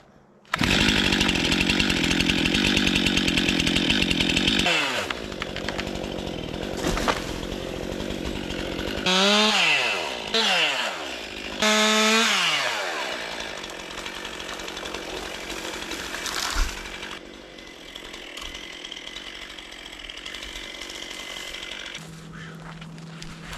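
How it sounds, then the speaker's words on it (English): A chainsaw cuts firewood outdoors at -10 degrees in central Alaska, roaring loud and close with its engine pitch dropping under load, several bursts of revving between cuts, then settling to a lower idle near the end. "I need this saw to run and work every time,"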